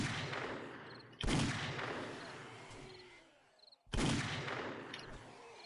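Magnum revolver firing in the 7 Days to Die video game, two loud sharp shots a few seconds apart, each with a fading tail.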